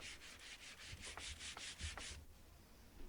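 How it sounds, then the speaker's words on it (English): Rhythmic scratchy rubbing of sandpaper on wood by hand, about ten even back-and-forth strokes close up, then stopping into quiet. "And quickly just gave it a hand sanding."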